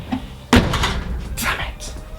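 The boot lid of an Audi A3 shuts with a single sharp thud about half a second in, followed by a voice talking.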